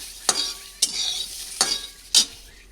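Green pigeon pea seeds dry-roast in a pan, with four distinct scraping stirs spaced about half a second apart over a continuous, gentle sizzle.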